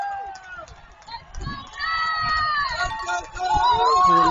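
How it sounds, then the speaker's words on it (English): The Wildcat home crowd at an NCAA tournament super-regional college tennis match roars and yells, swelling into loud, sustained cheering with shouting voices. "we hear the Wildcat crowd going wild"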